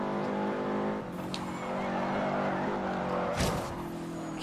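A car accelerates in the Forza Horizon 2 racing video game, its engine note holding steady and loud for the whole stretch with harmonic drone, plus a brief bright burst of tire or skid noise near the end.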